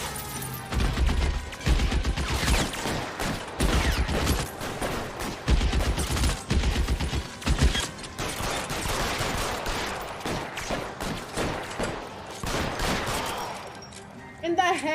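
Heavy gunfire rattles through a shootout in the video game L.A. Noire, with dense bursts of rapid shots and a few pauses.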